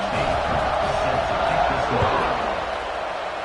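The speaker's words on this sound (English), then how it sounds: "this crowd is buzzing after that last score" A football stadium crowd buzzes after a touchdown in Miami, a dense, steady roar of many voices that holds evenly loud throughout, with no single voice standing out.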